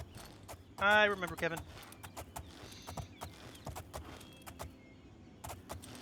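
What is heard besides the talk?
horse hooves clip-clopping in the video game Oblivion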